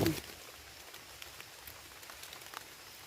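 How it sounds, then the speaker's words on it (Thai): Rain falls on a mountainside, a soft, steady patter of scattered drops with occasional louder ticks, quiet and close, after a brief sharp noise at the start. "ฝนตกแล้วจ้ะนี่ ฝนมาเลย"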